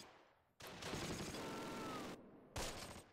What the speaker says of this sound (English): That sounds like an MG42